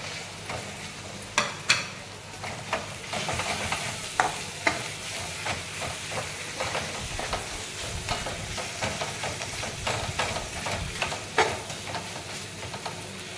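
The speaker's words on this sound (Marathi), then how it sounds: "तेला चांगला खिमा परतून घ्यायचा, सुट्टा सुट्टा होईपर्यंत" Mutton keema sautéing in oil, a close, steady sizzle with frequent scraping and knocking of a spatula stirring the mince around the pan, no voices.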